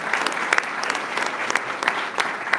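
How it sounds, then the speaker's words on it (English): Audience applause for sponsors at a Fort Worth and Tarrant County philanthropy event: dense, steady clapping from a sizable crowd throughout, with a few sharper individual claps standing out. "So all those sponsors, if you just give them a round of applause"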